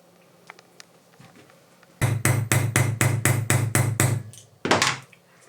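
A black rivet is hammered into a leather bag with a rapid series of about ten sharp, evenly spaced blows, then one final strike after a short pause, close and loud.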